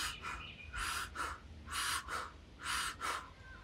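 A person demonstrating hyperventilation takes short, panicked breaths, seven quick airy gasps arriving in uneven pairs and singles, close and clear with no talking.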